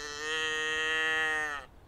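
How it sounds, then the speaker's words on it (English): A small toy animal noise maker gives one sustained, tonal cow moo lasting about a second and a half, loud and close, before cutting off sharply. "animal noise maker"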